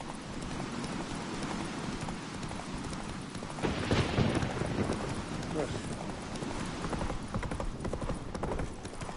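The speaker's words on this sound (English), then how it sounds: "Whoa there, Roach." Galloping horse hooves in The Witcher 3, a steady fast clip-clop rhythm running throughout with a brief louder surge midway, layered under game sounds and character voices.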